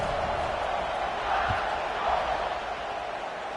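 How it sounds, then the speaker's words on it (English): A steady roar from a stadium crowd at an NCAA College Football 26 game, Penn State against Alabama, holding a constant wash of cheering with a slight swell toward the middle. "You think this crowd's going to get loud when their defense comes on the field?"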